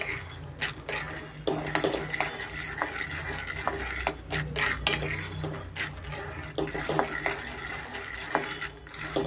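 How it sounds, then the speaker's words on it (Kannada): Peanuts dry-roasting over a medium flame in a pan, with a spatula steadily scraping and stirring them in a near, continuous clatter and rustle of shells and nuts against metal. "ಒಂದು ಹತ್ತು ನಿಮಿಷ ನಾನು ಮೀಡಿಯಮ್ ಫ್ಲೇಮಲ್ಲೇ ಶೇಂಗಾ ಅಥವಾ ಕಡಲೆಕಾಯಿ ಬೀಜನ ನೋಡಿ ಹುರ್ಕೊತಾ ಇದ್ದೀನಿ"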